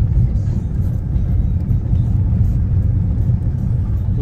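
Car driving along a rough dirt road toward a canyon in Turkey, giving a steady, loud low rumble of engine and tyres that holds throughout without pause.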